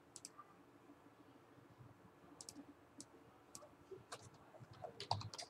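Quick bursts of keyboard typing, clicks coming in short irregular runs with pauses between, fairly close and quiet against a low room hum.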